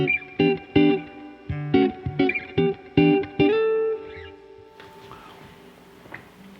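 Bright electric guitar, a PRS hollowbody with spruce top, plays a short sequence of plucked notes and chords, drenched in reverb with a trebly tone, then rings out and fades into a soft tail.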